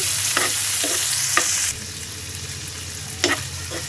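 Shrimp frying with salt in a pan, a loud steady sizzle with a few quick stirring scrapes, easing slightly partway through.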